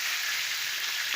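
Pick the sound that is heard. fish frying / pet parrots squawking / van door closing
fish frying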